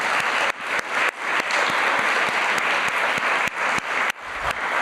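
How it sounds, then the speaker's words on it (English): Audience applause at a network learning summit, a dense steady wash of many hands clapping loudly and close, with a few sharp individual claps standing out and no talking. "So please join me in a round of applause for them."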